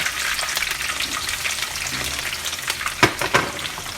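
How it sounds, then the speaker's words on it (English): Seasoning sizzles and fries in hot oil in a pan for chicken wing goulash, a steady close crackle with a few louder stirring knocks near the end. "since it's hot, I'm gonna take and add a little seasoning in there first to saute"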